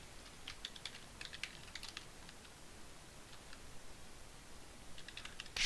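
Fingers tap out notes on a computer keyboard in uneven bursts of light clicks with short pauses between them, quiet and close in a calm room.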